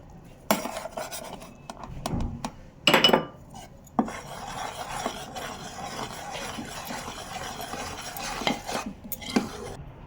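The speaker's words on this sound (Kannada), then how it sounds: "ಈಗ ಸ್ಟವ್ ಆಫ್ ಮಾಡಿಕೊಂಡು ನಾನು ಕಡಲೆ ಹಿಟ್ಟನ್ನು ಹಾಕ್ಕೊಳ್ತೇನೆ." Gram flour goes into hot sugar syrup in a pan off the stove and is stirred with a spoon, giving close scraping and clinking against the pan with a few sharper knocks.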